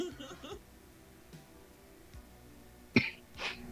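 A single short cough rings out near the end after quiet, muffled background noise, with a softer rasp following it.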